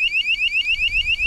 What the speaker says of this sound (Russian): О, кстати, сигнализация у меня.